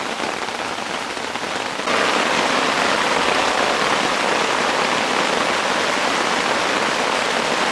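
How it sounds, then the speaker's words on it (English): Heavy rain driven by strong wind pelts a tent fly, a steady hiss that jumps abruptly louder about two seconds in and stays dense and close throughout, no voices. "the rain has intensified with lots of wind"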